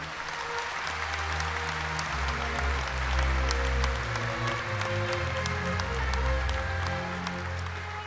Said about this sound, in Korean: 나라를 위해 싸우신 독립유공자 여러분께 다시 한번 뜨거운 박수 부탁드립니다.